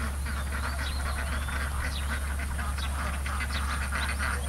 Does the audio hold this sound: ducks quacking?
yes